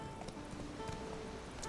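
Horse hooves gallop in The Witcher 3, a rapid, steady clip-clop on a road that stays even and moderately close for the whole short stretch.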